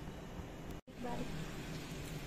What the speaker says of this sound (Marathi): बारीक बारीक पाऊस पडतोय